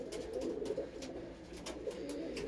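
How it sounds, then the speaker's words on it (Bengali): A Rampuri-bloodline pigeon coos in a steady, low, throaty warble throughout, close and moderately quiet, with a few brief higher clicks or rustles over it. "এটা মূলত একটা রামপুরি ব্লাড লাইনের পায়রা।"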